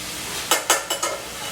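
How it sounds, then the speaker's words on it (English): Potatoes fry in a pan with a constant sizzle, while a few quick stirring scrapes sound up close in a short run of strokes. "So I'm going to add the potatoes in and cook them for like 10 minutes"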